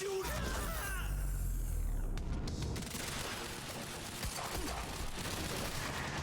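Heavy gunner fire in the video game Quantum Break, a rattling burst of automatic gunfire with explosive booms, fairly quiet and mixed into busy game noise.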